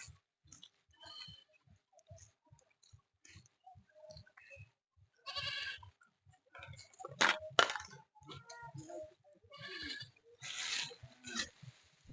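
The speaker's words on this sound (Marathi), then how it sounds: "चला आता शेळ्यांना टाकून झाले, शेळ्यांना घेऊन येत." Goats bleat repeatedly at close range, several loud overlapping cries in the second half after quieter scattered calls, with rhythmic low thumps underneath.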